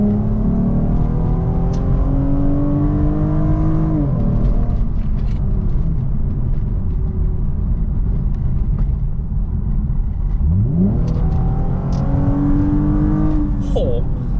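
A Lexus IS 250 with a V engine and a Euro Arts exhaust with dual mufflers revs loudly and close up, with one throttle blip rising and falling early and a second sharp rev near the end over a steady rumbling idle.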